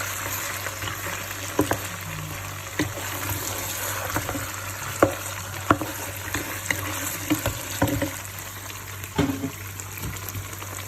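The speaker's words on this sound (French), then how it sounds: "Bien mélanger la tomate." Tomato cooking in a pot while being stirred, a soft bubbling sizzle with scattered sharp spoon knocks and scrapes against the pot, close and fairly quiet over a low steady hum, without talking.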